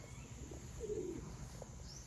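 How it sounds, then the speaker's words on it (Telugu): A pigeon gives a single soft, short coo at the Chennakesava temple in Sompalli, faint against a quiet, hushed background. "పావురాలు కూడా జోరుగా అరుస్తాను."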